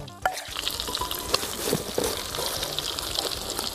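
Red ant eggs frying with beaten egg in hot oil in a rural Thai kitchen, a steady close crackling sizzle with a few sharper pops and stirring scrapes, no talk.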